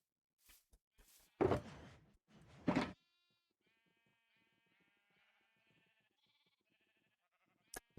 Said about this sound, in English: Now we just gotta get 64 sheep.